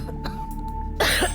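A woman coughs while cleaning at home, heard as a short burst of harsh coughs after a quieter stretch with a faint steady background hum.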